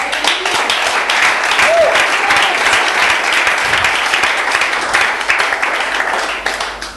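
A church congregation applauding to acclaim the Lord, loud dense clapping that fills the space continuously, close and sustained, with a faint voice underneath and the clapping thinning slightly at the end.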